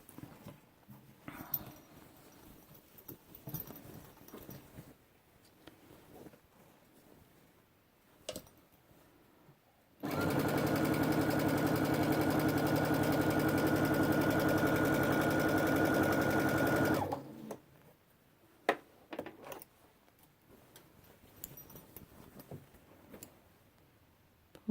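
A sewing machine stitches the bottom of a backpack in one loud, continuous run of about seven seconds, with quiet handling clicks before and after.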